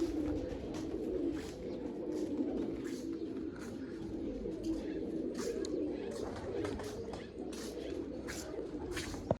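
Pigeons coo softly and repeatedly in a backyard loft, a low steady murmur of calls with occasional chirps, while people talk over them.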